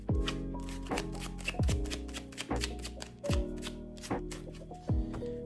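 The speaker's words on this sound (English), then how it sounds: "Now that we shuffled the deck" Repeated overhand shuffling of a card deck, rhythmic papery slaps roughly every second, close up with a steady faint hum underneath.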